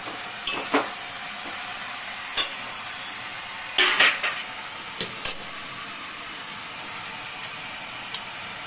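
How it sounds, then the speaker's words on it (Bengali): Ash gourd curry being stirred in a pan, with a soft steady sizzle under a few scattered close scrapes and clinks of the spoon against the pan. "একটু নাড়াচাড়া করছি।"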